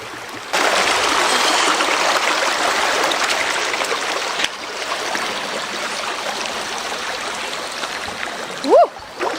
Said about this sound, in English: The water feels pretty good, so I'm just gonna walk through it.